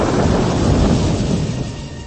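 A radio-drama effect of a night thunderstorm plays alone, with a loud, deep rumble of thunder over steady heavy rain, easing slightly toward the end.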